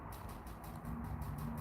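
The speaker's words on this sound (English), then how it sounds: "Forgive that clicking." Rapid, evenly spaced clicks tick steadily for under two seconds in a quiet indoor livestream setting, over a low background hum.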